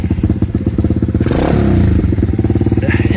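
125cc Lifan semi-automatic motorcycle fitted with a Mikuni VM26 carburettor, idling loud and close with a rapid, even chugging putter and a brief blip of revs midway.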